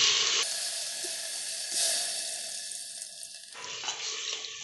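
Water is poured into mutton paya in a pressure cooker with a loud rushing, hissing splash that cuts in abruptly, swells, and then drops off into softer sizzling and bubbling.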